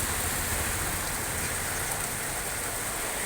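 Heavy rain pours down in strong wind, a dense unbroken roar of water on surfaces that stays loud and even throughout.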